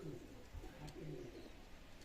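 Fancy pigeons, including Royal and Teddy breed youngsters offered for sale, give soft, low, rolling coos in a few repeated phrases, fairly quiet against a light background hum.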